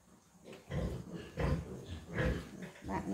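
Newborn piglets and pigs in a row of farm pens give repeated grunts and squeals, several bursts rising and falling close by.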